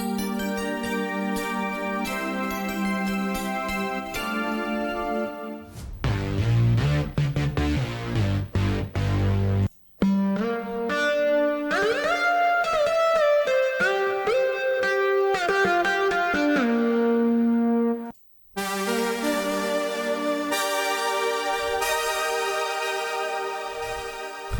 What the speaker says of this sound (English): It is a free, excellent synthesizer